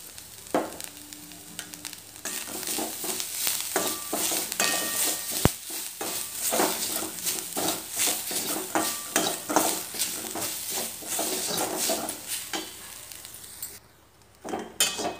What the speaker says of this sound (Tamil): இப்போ ஒரு கடாயில் நாம் இந்த தேங்காவை வறுத்து எடுத்துக்கணும்.